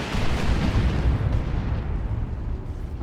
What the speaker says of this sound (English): Nob Squad make the Eversor explode.